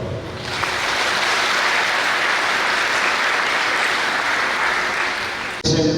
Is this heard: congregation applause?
yes